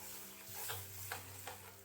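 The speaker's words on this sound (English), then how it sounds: "And now we're going to stir that tomato mixture." A tomato mixture with coriander stems for a chicken tikka and mushroom balti curry is stirred in a frying pan: a faint, low sizzle with three soft scraping strokes.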